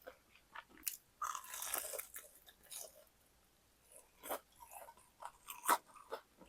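Crunchy fried shrimp tempura being bitten and chewed up close, with several crisp crunching bites scattered through a quiet stretch and no talking.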